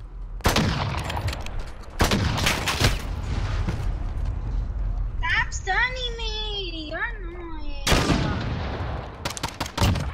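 Sniper rifle fire in the Call of Duty: Modern Warfare video game: sharp gunshot cracks at intervals mixed with game effects and a rising whistle-like sound, while players talk throughout.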